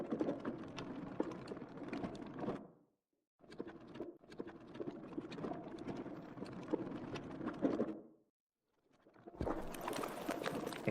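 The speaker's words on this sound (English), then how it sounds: "So I found this electric mower going over gravel sound effect," Reversed recording of an electric mower rolling over gravel, a dense scraping, crunching texture in loud bursts broken by two short silences, heard alone with no talk.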